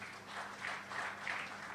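An audience claps at a national convention in Abuja, a short burst of steady, fairly dense applause without talk.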